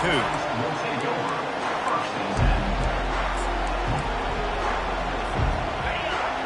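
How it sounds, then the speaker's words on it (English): A college football stadium crowd roars in a broad, sustained wash of cheering, with deep booming thuds rising beneath it, while a commentator talks over the noise. "This crowd bringing an ear-splitting welcome to their visitors."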